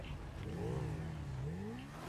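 A motorbike engine revs in a video game, its pitch rising and falling in smooth sweeps, steady and fairly faint under a continuous hum.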